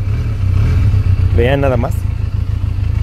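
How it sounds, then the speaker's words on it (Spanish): A Leoncino 500 motorcycle with a 500 cc engine idles loudly at close range, its exhaust throbbing in a low steady pulse, while someone speaks briefly over it. "¿Escuchen el escape?"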